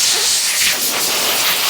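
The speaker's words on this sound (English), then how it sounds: "we're gonna connect just an air blower and see if we have any air coming out the other end" Compressed air rushing from an air blower attached to the end of a garage compressor hose: a loud, continuous close-up hiss with no breaks and no voices.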